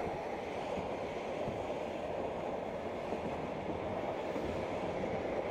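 A private train crossing the steppes of Central Asia on the Silk Road gives a steady, continuous rumble with faint rhythmic clatter of wheels on rails, heard from inside the carriage, with no voices.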